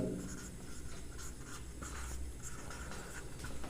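Chalk or marker writing a definition on a classboard, a steady run of soft scratchy strokes with short pauses between them, close and fairly quiet, with no talk.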